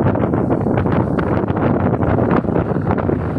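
Strong wind buffets the microphone at the seashore in Bolinao, Pangasinan, a loud, continuous roaring rush with gusty surges throughout and no one speaking.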